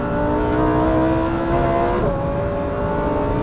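A rear-wheel-drive Lamborghini Huracan Evo RWD drives hard on a race circuit, its engine loud and sustained from inside the car, with rising and falling revs and a gear change partway through.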